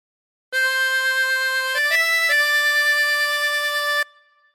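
A chromatic harmonica plays a phrase of Billy Joel's Piano Man: clear, sustained reedy notes with a couple of quick pitch changes, played alone for about three and a half seconds before stopping.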